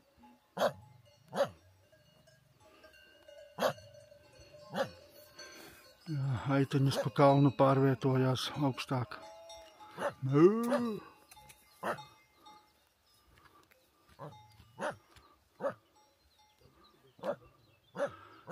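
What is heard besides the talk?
dogs barking on a mountain trail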